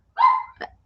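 A single dog gives one sharp bark, drawn out briefly, followed by a quicker yelp, close by and moderately loud indoors in a home, with no talking over it.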